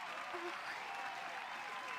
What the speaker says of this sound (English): Clapping as hard as I can.